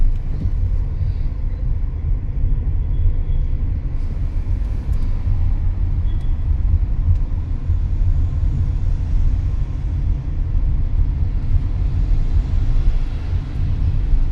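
Manual car driving in third gear, with a steady low engine and road rumble heard from inside the cabin and no talking over it.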